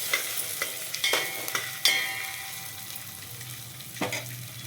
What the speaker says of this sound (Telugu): అటు ఆనియన్స్ కూడా రోస్ట్ అయిపోతాయి